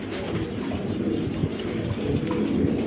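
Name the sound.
pair of pigeons cooing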